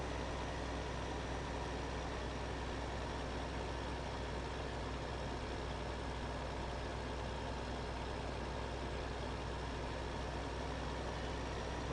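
A high-powered 230-horsepower tractor pulling a cultivator in the video game Farming Simulator 2015 drones on as a steady, unbroken low engine rumble throughout, with no voices.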